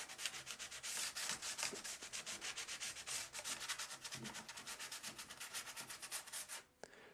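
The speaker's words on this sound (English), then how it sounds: "I just used 220 grit sandpaper and put it in the slot, bend it back this way, and give it a sand" 220-grit sandpaper rubs rapidly back and forth inside the slot of a rattan cane chair, a close, steady rhythmic scratching that continues for several seconds before stopping.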